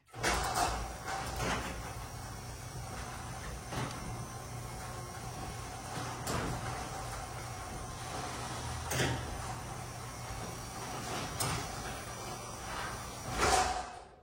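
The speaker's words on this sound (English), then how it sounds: "with the old garage door opener on here, I want to shut the garage door and open it" An old garage door opener closes the garage door, giving a long, steady mechanical rumble with intermittent clanks and a louder thud near the end, heard up close with no talk.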